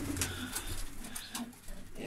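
Pigeons cooing inside a freshly cleaned pigeon loft with young birds, several soft, low throaty coos repeating close by in a steady murmuring rhythm with faint higher chirps over a light background hum.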